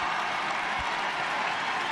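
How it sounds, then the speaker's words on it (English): Big cheer from the stadium crowd at the 2007 All-Ireland Senior Football Final between Kerry and Cork as substitute Mossy Lyons comes on: steady, dense roar and applause lasting throughout. "The big cheer in the background was for Mossy Lyons coming in."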